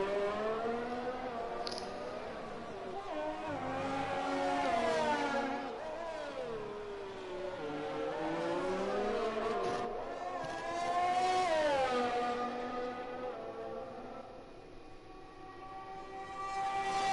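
A Racing Point Formula 1 car engine screams through a flying lap in a racing video game, high-pitched and loud, with rising and falling pitch sweeps through gear changes and corners.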